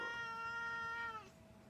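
A house cat gives a single drawn-out meow, close and fairly quiet, its tone sliding downward before it fades into a soft room hush.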